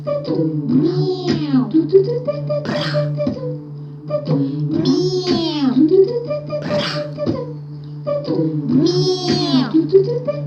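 Three rounds of rising, wavering meow-like cries repeat over a steady low hum, each burst loud and close with brief gaps between.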